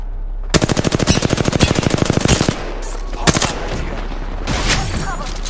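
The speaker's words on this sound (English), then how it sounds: "They spotted me. I'm taking shots." Automatic gunfire in the video game Apex Legends, a rapid loud burst of evenly spaced shots lasting about two seconds, followed by a few more scattered shots and bursts, with a low game hum underneath.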